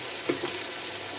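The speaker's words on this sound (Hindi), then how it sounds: "अदरक लहसुन का पेस्ट भी सॉफ्ट हो गया है और मेरे आलू भी अच्छे से फ्राई हो गए हैं" Potatoes and ginger-garlic paste fry in a pan with a steady, soft sizzle and a couple of faint utensil taps, quiet and continuous throughout.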